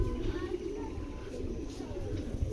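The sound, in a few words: racing pigeons cooing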